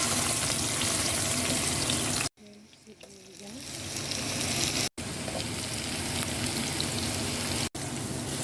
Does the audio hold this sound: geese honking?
no